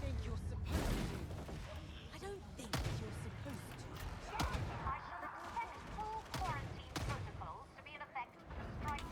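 Bolt pistol gunfire in the video game Warhammer 40K Darktide, several sharp, punchy shots spaced a couple of seconds apart amid busy combat noise, with someone talking throughout.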